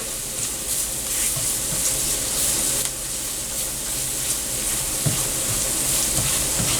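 A roux of roughly equal parts flour and oil sizzles in a pan with a loud, steady frying hiss and scattered small crackles and taps throughout.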